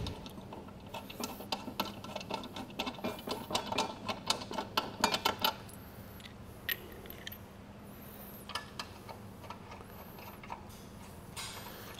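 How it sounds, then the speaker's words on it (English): Lug nuts being threaded by hand onto the wheel studs of a 2012 Jeep Wrangler, giving a run of quick, close metallic clicks and rattles for the first half, then a few sparse ticks over a quiet hum. "We'll take our lug nuts and we're going to thread them back on there."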